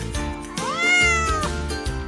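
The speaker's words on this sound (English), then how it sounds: "cat," A cat gives one drawn-out, rising-then-falling meow, clear and near, over light background music.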